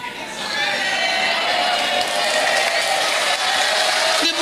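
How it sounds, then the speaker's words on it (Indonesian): Applause and cheering from a crowd in a troll video, a dense, steady wash of clapping that holds at full loudness throughout with a voice briefly cutting in near the end. "Ini tepuk tangan apa coba?"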